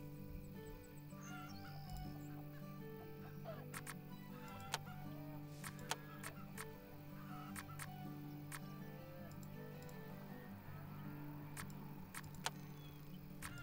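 Chickens cluck softly and continuously in a farm management video game, a busy layer of poultry chatter with occasional sharp clicks over a steady low ambient bed.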